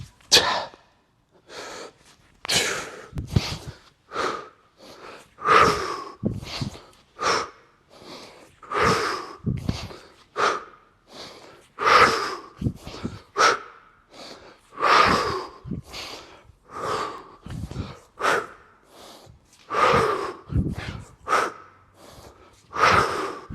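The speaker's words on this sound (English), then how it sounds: "Forgive me for the porn-like sound and breathing here in this microphone," Heavy, rhythmic breathing close into a microphone during a hard training session, with repeated loud breaths and gasps throughout and no speech.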